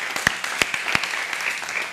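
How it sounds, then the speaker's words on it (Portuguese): A short burst of applause rings out, a thin, steady patter of clapping lasting about two seconds with a few sharper individual claps standing out near the start. "uma salva de palmas para o livro C"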